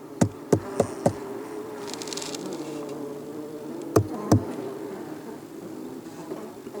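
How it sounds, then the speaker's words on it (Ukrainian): A low, steady hum of honeybees buzzing inside wooden log hives in winter, close by, broken by a few sharp knocks at the start and two more later. "ще повинен якось довести, що в мене є бджоли в колодах"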